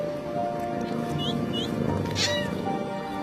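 A cat meows several times, short rising cries standing out over a steady low background hum, fairly close and clear.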